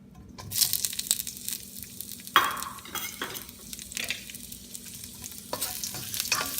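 Onions frying in a pan for lechon pork belly with vegetables, a steady sizzle broken by scraping stirs and a sharp clatter midway, close and without talk.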